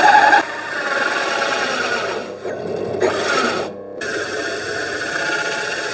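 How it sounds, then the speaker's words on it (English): An underpowered drill bores slowly into scrap pine wood, giving a continuous grinding, rasping whir that dips briefly partway through before steadying again, close and fairly loud with no talking. "This drill is super unpowerful."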